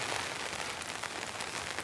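Heavy rain falling on the outside of a tent while winter camping in a storm, a dense, steady, close hiss of drops pattering on the fabric with no other sounds.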